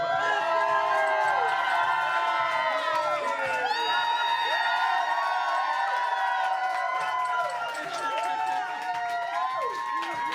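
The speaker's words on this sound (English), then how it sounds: "this whole crowd erupted when she came in here" Loud crowd cheering, whooping and shouting fills a packed bar as a winning municipal election candidate walks in, a dense continuous roar with excited voices throughout.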